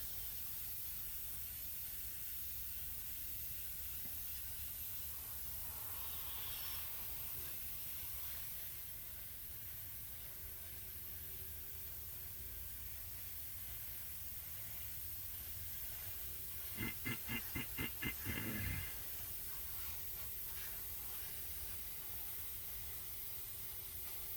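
Thinned Scale Auto Finishes enamel paint sprayed onto a 1963 Lindberg Mustang II model car, a faint continuous airbrush hiss with brief pulsing bursts of spray near the end.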